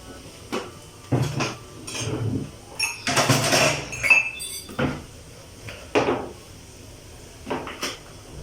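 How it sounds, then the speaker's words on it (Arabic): Dishes clatter and clink in a sink, with running water gushing in bursts and plates knocked together at close range, no voices. "نغسل بقى المواعين بتاعتنا وننضف الحوض"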